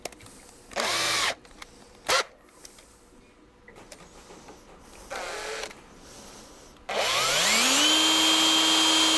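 A power drill runs in short whirring bursts with pauses between them, then settles into a longer sustained whine that rises in pitch and holds. The drilling is close and loud, with no voices.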